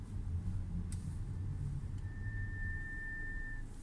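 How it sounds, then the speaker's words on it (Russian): Brake pads on an Audi A4 B9 squeal under gentle braking, a thin steady high-pitched whine that starts partway in and holds for over a second, over a low rumble of road and engine noise inside the car. "Скрип идет при плавном торможении."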